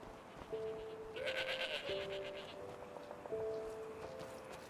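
Goats bleating in the video game Enderal, several clear, wavering bleats in sequence over a soft background hum, fairly close and moderately loud.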